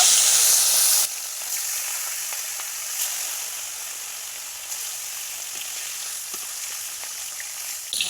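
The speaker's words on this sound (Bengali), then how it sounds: "তেলটা গরম হয়ে গেছে এবার আমরা মাছগুলোকে ভেজে নেব" Rohu fish pieces fry in hot oil with a steady, bright sizzle, louder in the first second and then a constant hiss close by, with no talking.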